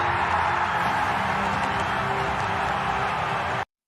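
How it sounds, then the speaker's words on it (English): A stadium crowd roars for Henry Aaron's record home run, a dense, steady wall of distant cheering and noise that holds at full level throughout before cutting off abruptly. "listen to this crowd"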